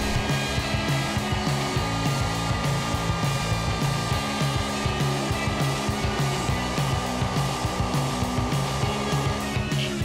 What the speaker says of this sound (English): Now we're just going to take a 45 degree chamfer bit and go over all the upside edges.